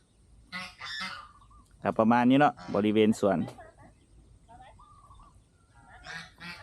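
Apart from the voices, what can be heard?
geese honking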